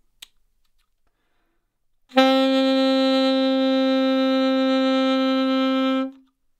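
A steady, buzzy reed instrument tone held for about four seconds, bright and strained with rich upper harmonics from the player's jaw biting too hard on the reed, following a faint click.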